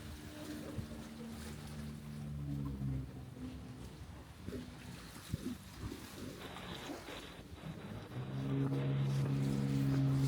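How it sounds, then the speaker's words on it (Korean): Sea waves wash and slosh beneath a pier, heard from the steps leading down under it at Stanley, Hong Kong, as a steady broadband surge that swells louder toward the end, with a boat engine droning low alongside. "부두 아래로 이어지는 계단이 있어 내려가 보니 파도 소리가 더 가까이 들립니다"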